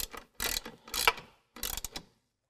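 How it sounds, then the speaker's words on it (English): A ratchet tightens 13mm serrated flange nuts on running board brackets for Acadia running boards at a rocker panel, in three short bursts of rapid clicking separated by brief pauses, close and fairly quiet. "I'm going to go ahead and tighten down our 3 serrated flange nuts"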